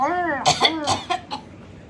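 A short burst of several quick coughs, close and moderately loud, following a brief stretch of talking.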